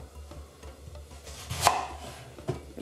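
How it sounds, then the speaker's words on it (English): Knife chopping vegetables for coleslaw on a cutting board, with a few sharp, isolated cuts, faint and close, against a quiet background. "Chop the other quarter."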